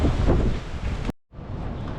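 Loud, buffeting typhoon wind roaring against the microphone on a Macau street, cutting out briefly before gusting back in.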